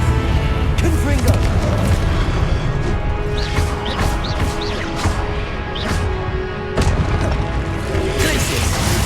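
A Confringo fire spell cast in Hogwarts Legacy, with repeated bursts and crackling impacts over a dense, loud game soundtrack. Several sharp pops recur across the clip, and a voice is faintly present in the mix.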